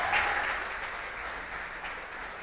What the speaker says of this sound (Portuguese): Você pode aplaudir esse nosso Deus?